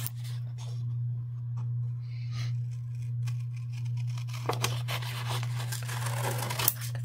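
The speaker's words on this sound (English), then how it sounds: "Use my little scissors." Small scissors cutting paper for an envelope, a series of short crisp snips and rustles close by over a steady low electrical hum.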